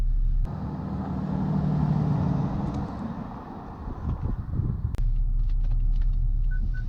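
BMW 5 Series GT 3.0d diesel car pulling away on a test drive, a steady low engine rumble heard from inside the cabin with a few clicks and thumps, no talking.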